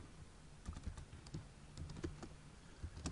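Quiet, uneven key taps on a computer keyboard as a new folder name is typed on a desktop computer, with short bursts and brief pauses, close and faint with no talking.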